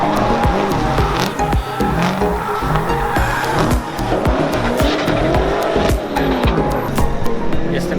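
Andreas Bakerud drives a rally car through a Gymkhana Grid 2019 run: a loud, continuous engine roar rising and falling with gear changes, punctuated by repeated tire squeals and skids.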